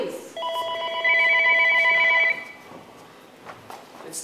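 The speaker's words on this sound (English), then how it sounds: "It's the phone again." A telephone rings from a stage play in one long, steady electronic trill of about two seconds. Quieter murmuring follows the ring.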